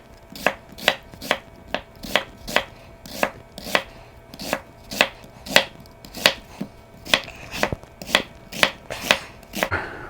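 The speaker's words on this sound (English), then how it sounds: "I'm going to just slice it all the way through and just julienne it." A knife cuts a vegetable into julienne strips on a cutting board, about twenty crisp, sharp chops at a steady, even rhythm, close and alone.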